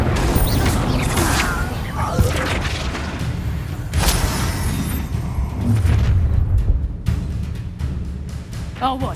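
Incendio fire spell cast in Hogwarts Legacy, a series of loud whooshing bursts and booming impacts amid constant combat clatter, with a sharp blast near the start and another midway.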